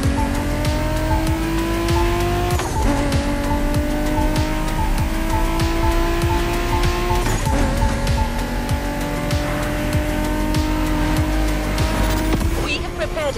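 A BMW Z4 M40i roadster drives through countryside in The Crew Motorfest, its engine droning loudly and revving steadily, with gear-change dips, tire squeal, and a voice talking over it.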